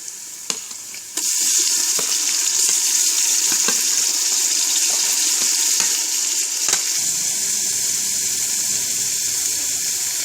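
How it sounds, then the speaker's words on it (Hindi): Tomatoes drop into a pan of light-brown frying onions for a savoury vermicelli dish. After a quiet start, a loud, steady hissing sizzle sets in, with a few scraping stirs of a spoon along the way. "अब इसके अंदर हम टमाटर डालेंगे।"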